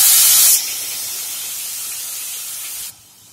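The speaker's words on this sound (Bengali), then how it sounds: "মাছ ভাজার তেলটার মধ্যে আমরা পেঁয়াজ বাটাটা যেটা বেটে রেখেছি সেটা দিয়ে দিলাম" Ground onion paste hitting hot leftover fish-frying oil gives a loud burst of hiss that settles into a steady, even sizzle before dropping off sharply near the end, with no talk.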